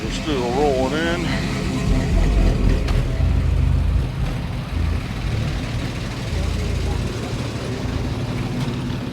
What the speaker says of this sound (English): I think this Mustang just pulled in.